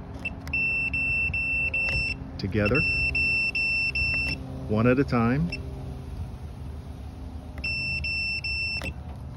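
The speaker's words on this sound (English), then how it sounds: "And this is me trying to establish the first sequence of the change code. And I get a constant beep." A Latch.It smart lock beeps in steady repeated high-pitched trains while a code is being set, pausing briefly and resuming, with a person speaking over it in the middle.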